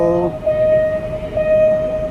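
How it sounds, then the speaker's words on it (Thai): An Alsthom locomotive, number 4223, pulls a special express train into a railway crossing area and community, giving a sustained tonal horn-like drone with rumbling undertone, fairly loud and close. "ตอนนี้ขบวนรถไฟมาแล้วครับ"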